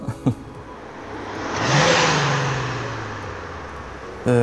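A Volkswagen Passat B6 R36 with a turbo engine revs hard under acceleration, a rising roar that swells and peaks, then settles into a steady drone, with sharp clicks at the start and the end.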